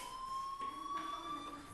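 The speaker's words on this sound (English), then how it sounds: "Hey, do you hear that fire alarm? That means you should be outside." A fire alarm in the video game Life is Strange sounds as a steady electronic tone, held continuously and moderately loud throughout, with no voices over it.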